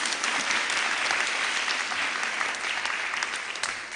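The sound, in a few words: audience applause at school awards ceremony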